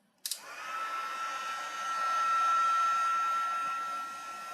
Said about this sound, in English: So I'm going to heat emboss this now. It's going to get a little loud